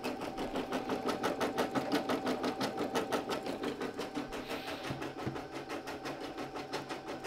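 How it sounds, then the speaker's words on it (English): A machine-embroidery machine stitches at reduced speed, a close, even, rapid mechanical pulsing that repeats steadily with no talk over it. "I slowed down the machine embroidery too, so that's why they take a little longer. But it's stitching a lot nicer than it was when I was going super fast."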